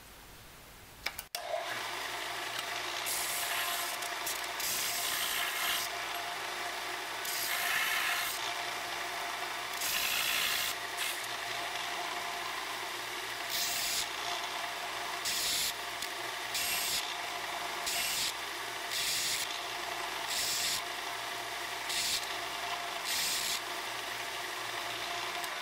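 Cut copper tubing being smoothed and flattened, likely by filing or sanding, giving steady rough rubbing strokes in repeated bursts, close and continuous, with no talking.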